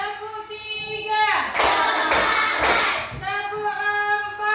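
A group claps three broad, loud slaps in a row, set between stretches of talking voices before and after.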